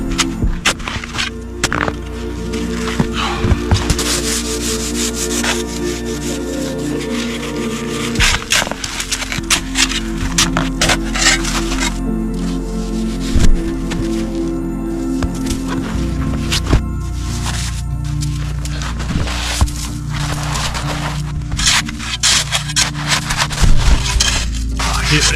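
Snow and tree roots are cut away inside a dugout shelter under deep snow, producing continuous close scraping, crunching and chopping with irregular sharp knocks over a low rumble.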